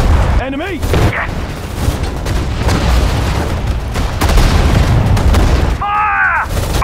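Heavy artillery booms and rolling gunfire from the World War II strategy game Sudden Strike 4, British campaign at the Mareth Line battle of March 1943. Dense, continuous explosions are broken by short unit voice callouts.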